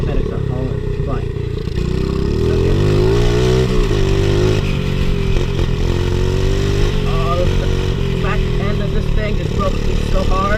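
A pit bike engine drones loudly while riding, its pitch rising and falling with repeated revs and throttle changes, heard close up throughout with a voice talking over it at times.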